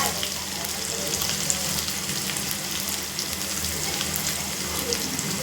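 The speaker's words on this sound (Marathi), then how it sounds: "आता कांदे टाकूया." Onions land in hot oil with cumin and garlic and set off a steady, dense sizzle and crackle that holds at an even level throughout, close and unbroken.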